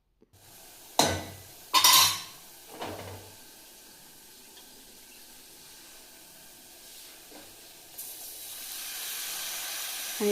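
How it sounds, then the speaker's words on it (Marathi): Red chili powder tempering sizzles in hot oil for dal. Three sharp bursts of sizzle and clatter come in quick succession, then a lower steady hiss continues and swells brighter toward the end. No voices. "हे लाल तिखटाची फोडणी आहे"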